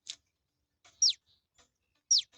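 Cute chicks chirping in the Toca Boca video game, a few short, bright high-pitched peeps spaced apart over quiet background, two of them clearer and louder.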